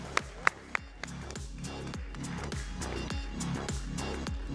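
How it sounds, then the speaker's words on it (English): Applause for panelists at a crypto conference session, a few sharp claps at first swelling into a steady, dense wash of clapping from the audience, mixed with a low rhythmic backing beat. "Give them a round of applause"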